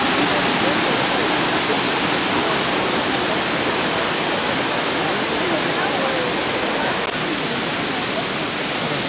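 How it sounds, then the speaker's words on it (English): A waterfall in El Yunque National Forest, Puerto Rico, roars as a steady, dense broadband rush that holds even for the whole stretch, close and loud with no pauses. "Check out the waterfall over here."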